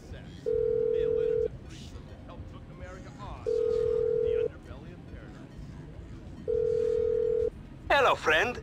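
A phone call tone in Grand Theft Auto V sounds three times, each a flat steady beep about a second long with pauses between, over quiet game ambience, followed by a short burst of voice at the end.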